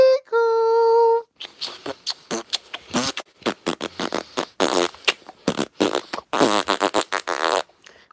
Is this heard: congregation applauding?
no